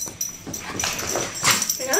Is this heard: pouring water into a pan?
no